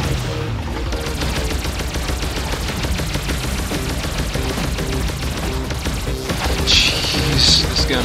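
Rapid, loud gunfire in the video game Alien Shooter, a steady machine-gun-like stream of shots over a pulsing background, with a brighter burst near the end.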